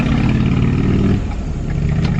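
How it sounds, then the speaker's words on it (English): A motorcycle engine roars loudly nearby, its drone steady and then easing slightly as it passes. "There's a motorcycle guy over there."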